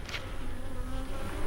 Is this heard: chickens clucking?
no